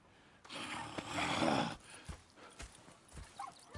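Horse hooves clip-clop in a loose rhythm after a burst of snorting and breathy whinnying, fairly close, with no talking, in the video game Red Dead Redemption 2.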